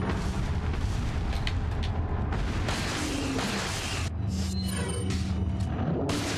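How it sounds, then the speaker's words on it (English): In a video game, magnum and shotgun fire comes as a dense run of loud, booming shots and blasts that fill the whole stretch with almost no pause. "Two magnum shots, two shotgun shots"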